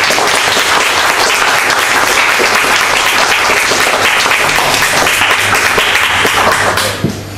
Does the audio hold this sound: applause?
yes